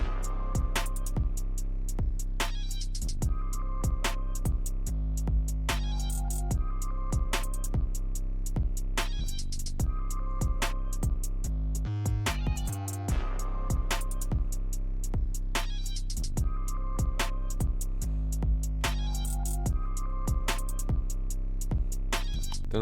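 UK drill beat with a heavy sliding 808 bass, crisp rapid hi-hats and steady snare hits, looping loudly and continuously with a short stuttering break midway and no voice over it.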